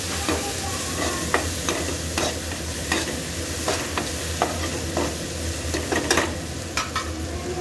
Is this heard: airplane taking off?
no